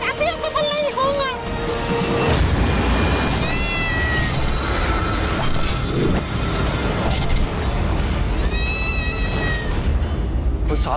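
A demon cat gives drawn-out, wailing meows over a loud, booming dramatic score, several rising and falling yowls repeating close up, with brief voices mixed in.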